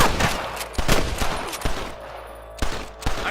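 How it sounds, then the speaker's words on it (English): Rapid gunfire in the Western video game Red Dead Redemption, a string of sharp, loud shots in irregular bursts, some close together like a fusillade, with no talk over them. "I can hear more gunshots."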